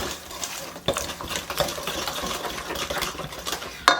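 Thick corn fritter batter being stirred vigorously in a bowl, with continuous scraping and wet mixing sounds and occasional sharp utensil knocks against the bowl, close up and with no speech.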